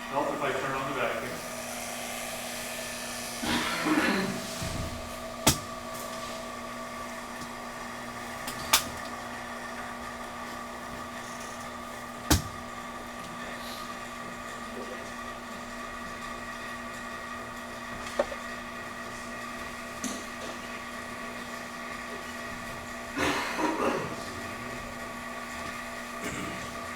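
A vacuum pump decompressing a chamber drones with a steady mechanical hum and tonal whine, constant throughout, with occasional sharp clicks and handling knocks nearby.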